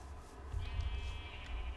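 A Minecraft sheep gives a short, faint bleat over a low, quiet background rumble, heard once with no voices.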